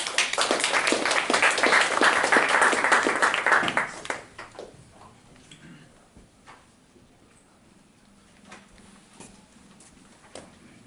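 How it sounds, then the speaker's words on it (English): Applause from an event audience after an investment group is introduced, loud dense clapping for about four seconds that quickly fades to a quiet room with scattered faint sounds. "Let's give them a round of applause."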